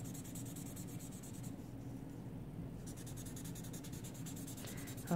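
A pencil is rubbed firmly back and forth across paper in steady, close scratching strokes, continuous with faint background hum and a brief pause partway through.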